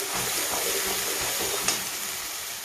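Ground onion, garlic and ginger paste sautéing with chicken in a hot pan, a steady close sizzle with soft stirring scrapes and one brief clack near the end, no voices.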